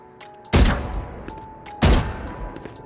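Valorant gunfire during counter-strafing, with two loud, close single shots about a second apart and a faint footstep clatter between them.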